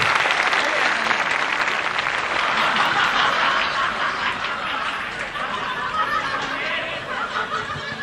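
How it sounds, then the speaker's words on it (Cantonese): An audience at an awards show applauds continuously and loudly, with scattered laughter and chatter mixed in throughout. "真係俾掌聲啊"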